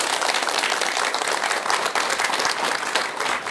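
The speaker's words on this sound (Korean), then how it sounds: "힘난 박수 한번 주세요" A live audience at a Buddhist monk's talk on living a happy life breaks into steady, dense applause, many hands clapping at once for the full stretch, loud and even without pause.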